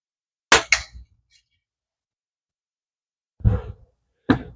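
Pinty P-rifle airgun shots fired at a can: a sharp crack with a quick metallic follow-up early on, then after a silent gap two more separate snappy reports, close and clear against near silence.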